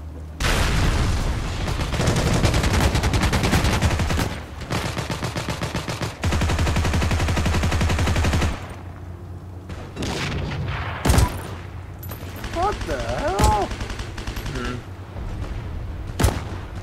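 Rapid bursts of automatic gunfire from the WWII shooter game Heroes & Generals, loud sustained volleys broken by short pauses, then scattered single shots and faint game sounds.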